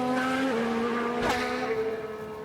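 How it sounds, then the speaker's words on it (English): A 2022 Formula 1 car in a racing video game locks its tyres under braking, giving a loud, steady engine whine with a short screech as the wheels skid. "Pushing hard, locking up, running wide in turn 11."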